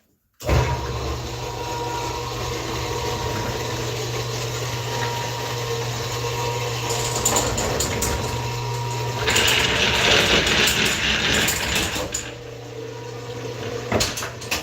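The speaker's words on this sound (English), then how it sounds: "That is a elevator, and I made that elevator." A homemade board elevator running, giving a loud continuous mechanical motor hum and whir with steady low drone, brief rattles and clunks, and a louder stretch toward the end before it stops.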